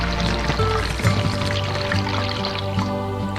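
Water poured into a beverage bag to measure out 12 ounces, a continuous close gurgling stream filling the bag, steady and fairly loud with no talking.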